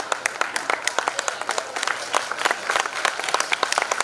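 Sustained applause from a crowd at a Bhagavat katha gathering in Ranpar village, a steady wash of many hands clapping with dense irregular peaks throughout, fairly loud and close.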